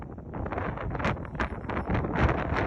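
Strong wind at Honningsvåg in Arctic Norway buffeting the microphone, gusting in uneven bursts of roaring rush with no voices, loud and close.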